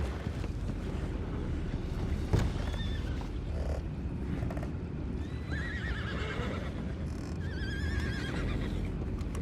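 Several horse whinnies in Red Dead Redemption 2 ring out over a steady rumbling background, with hoof clatter and a sharp knock near the start.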